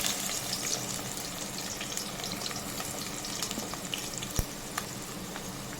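Chopped onions frying in hot oil for a fish curry, a steady close crackling sizzle throughout with a faint clink or two near the end.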